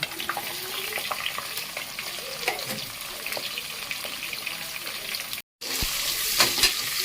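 Onions and green chillies fry loudly in hot oil with whole spices for vegetable biryani, a dense continuous sizzle broken by stirring clatter and one brief dropout.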